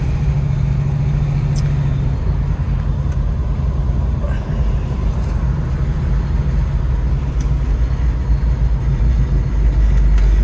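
A 1967 Chevrolet Nova cruises along with a deep, steady engine rumble heard loudly from inside the car, alongside constant road and cabin noise.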